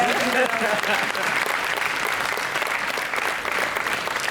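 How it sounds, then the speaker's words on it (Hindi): Loud, dense applause from a large audience at a college anniversary celebration in Delhi, sustained and even throughout, with some voices mixed into the crowd noise. "अगर बात अच्छी लगी तो जोरदार तालियां।"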